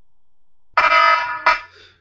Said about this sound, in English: Not going to be long before that alarm goes off